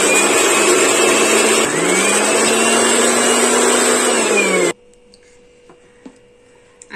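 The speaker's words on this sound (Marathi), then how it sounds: "आपण आता हे मिक्सरला वाटून घेऊया।" Kitchen mixer grinder whirring steadily as it grinds ginger, garlic and green chillies, a loud continuous motor drone with a slight dip in pitch midway, then cutting off abruptly into near silence with a few faint clicks.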